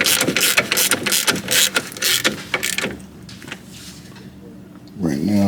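A ratchet clicks in quick bursts while wheel hub assembly bolts are snugged down on a 2008 Dodge Charger during a hub and wheel bearing install, loud and close, fading out near the end as a voice briefly starts.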